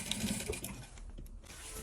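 A domestic sewing machine runs steadily while backtacking across a raincoat hem, a close, moderately quiet whirring hum with slight mechanical ticks and no talk.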